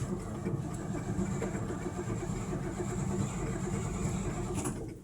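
A car engine cranks and sputters during a cold start on New Year's Eve, a continuous loud churning rumble with a faint high whine, close by and without talk.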